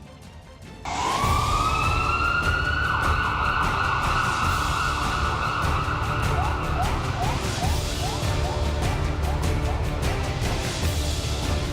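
An ambulance siren bursts on after a brief quiet moment and wails loudly and continuously in rising and falling sweeps, with road traffic rumbling underneath.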